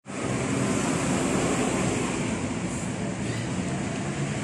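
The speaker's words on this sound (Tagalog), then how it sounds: "Testing natin, buhusan ng tubig." Water poured onto a shiny, foil-like cover on a Honda Click motorcycle makes a loud, continuous rushing splash that starts abruptly and holds steady throughout.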